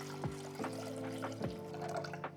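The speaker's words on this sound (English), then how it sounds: "pre-clean, and then I just put in some water. This is just cold water." Cold tap water pours into a Thermomix bowl for a pre-clean, a steady close splashing fill with a few brief surges, no voices.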